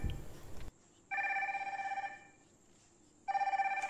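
Default incoming-call ringtone of a Noise Evolve 3 round-dial smartwatch: a bright electronic ringing pattern that plays for about a second, pauses, and repeats, heard close and fairly quiet.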